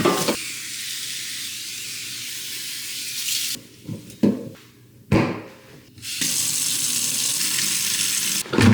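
Fruit and vegetables being washed in a kitchen sink under a steadily running tap, a continuous hiss of water broken by splashes and handling noises as produce is moved, close and loud.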